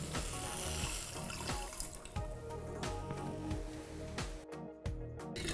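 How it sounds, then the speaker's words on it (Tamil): Water, about one cup, poured into a cooking pot holding sugar while making gulab jamun syrup, with a steady splashing rush and a few clinks of the vessel, close and fairly quiet, no talking. "அதில் 1 கப் தண்ணி ஆட் பண்ணிக்கிறேன்."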